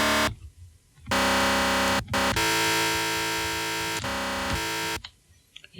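Heavily distorted dubstep bass made in FL Studio and crushed through a CamelCrusher Annihilate patch, loud sustained buzzing notes in several blocks broken by short gaps, no voices.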